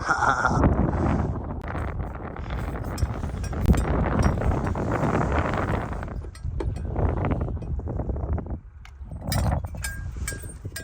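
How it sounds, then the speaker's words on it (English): Strong wind buffets the microphone in a steady roar with gusts, and faint clanking and animal noises come through from an outdoor livestock pen with cows and guardian dogs. "It is windy out here, folks."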